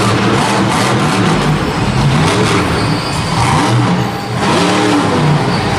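The El Toro Loco monster truck's engine roars and revs loudly at a Monster Jam event in Anaheim, a sustained heavy growl with surging pitch and a brief dip near the end.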